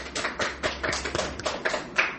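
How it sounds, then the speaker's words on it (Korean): Small church congregation clapping for three evangelists, a quick, uneven patter of hands that swells and dips without letup, close and moderately loud. "박수 한번 받으십시오"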